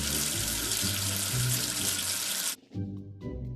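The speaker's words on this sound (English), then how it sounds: "Wash away the soap with water." Water runs loudly and steadily from a tap in a kids' alphabet learning game as a letter is washed, with soft cartoonish tones underneath, then cuts off abruptly near the end.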